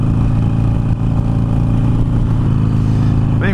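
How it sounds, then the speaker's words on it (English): A Harley-Davidson Iron 883 motorcycle engine running steadily at close range, a dense droning rumble with wind noise, loud and unbroken throughout. "you definitely hear the bike in the background"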